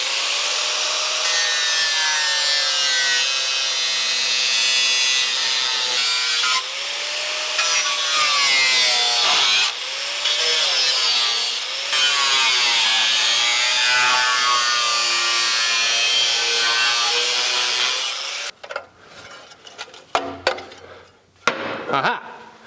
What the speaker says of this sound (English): What I want to do is just cut the bottom of the muffler out